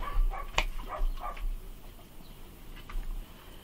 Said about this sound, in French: Je sors mes chiens pour avoir un peu de tranquillité.